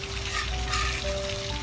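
Chicken heads frying in hot oil for green chili sambal give off a dense, continuous sizzle, loud and close, with a faint steady hum underneath.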